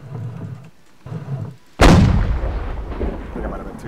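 A heavy ship cannon booms in the Holdfast: Nations At War naval battle, one sharp loud blast with a long rumbling decay, preceded by brief muffled game noise.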